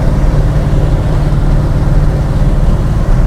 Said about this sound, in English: I wonder why I had so much wind noise.